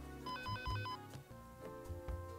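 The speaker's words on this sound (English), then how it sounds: "I don't have time for your urgent phone calls." Phone ringtone from the video game Dead Rising 2, a short repeating electronic ring pattern sounding over game music and effects, fairly faint overall.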